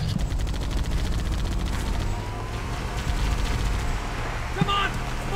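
Rapid gunfire from Halo CE gameplay on Legendary difficulty, a continuous rattling fusillade of shots under a steady rumble of background game noise, moderately loud throughout.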